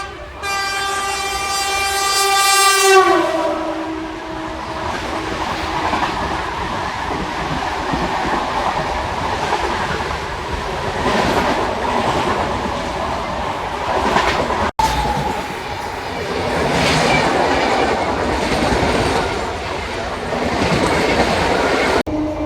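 MEMU passenger train running on rails, opening with a loud horn blast, then a continuous rumbling roll with clattering wheel noise throughout, heard from on board.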